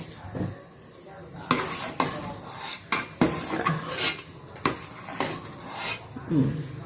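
A spoon scoops ginger out of a pot of boiling ginger water, giving a series of sharp metallic clinks and scrapes against the pot at irregular intervals, with low background bubbling.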